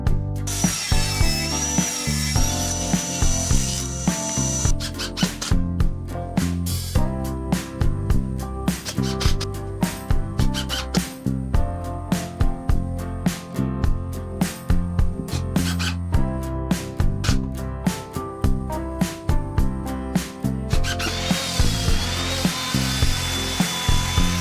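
Screws driven into a wooden plank on a box structure, with short bursts of a power screwdriver whirring over a steady backing of music, no speech.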